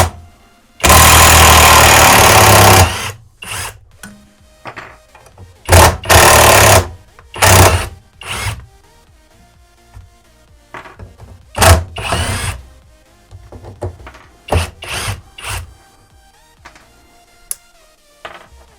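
A budget 48V cordless drill screwdriver from Wish runs in loud bursts: a long opening whine followed by a series of shorter, uneven revs and stops, close up with no talking.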